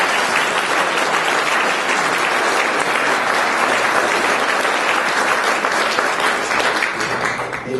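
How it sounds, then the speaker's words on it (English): A crowd gives one more round of applause, a loud, dense and sustained clapping from many hands that carries on evenly for the full stretch with no voices above it. "One more round of applause"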